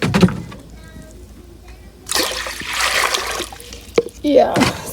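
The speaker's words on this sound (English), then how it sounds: "I'm going to pour water measured" Water poured into a cooking pot to be boiled for white rice in an African village kitchen: a steady rushing splash of a couple of seconds, with talking before and after.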